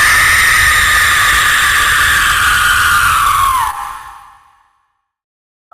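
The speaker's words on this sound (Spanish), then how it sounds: "se oye gritos del alcalde" A mayor character screams in a creepypasta horror story: a loud, sustained, high-pitched wail slides downward in pitch, breaks off abruptly and leaves near silence.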